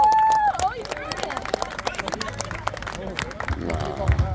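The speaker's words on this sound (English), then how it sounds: "Let's hear the applause for Russell" Outdoor crowd at a children's charity run cheering and clapping for a participant named Russell, a dense mix of claps, shouts and babble throughout, with a whistle-like tone near the start.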